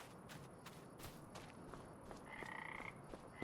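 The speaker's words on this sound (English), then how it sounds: "Oh, we even got a toady frog." Frog croaking in Farming Simulator 25, soft repeated croaks over a faint rural ambience with footstep-like taps, distant and quiet, no talking.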